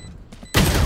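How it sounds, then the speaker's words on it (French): A flash grenade goes off in the shooter game Valorant: a short quiet lead-in, then a sudden loud, broad burst that holds at full strength until the end. "Grenade aveuglante."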